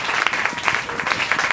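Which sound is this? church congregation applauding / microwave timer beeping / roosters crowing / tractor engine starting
church congregation applauding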